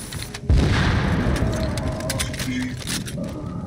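A loud explosion booms in The Division shooter game, a heavy blast with a rumbling tail that decays over a few seconds, with faint crackles after it and a voice speaking briefly underneath.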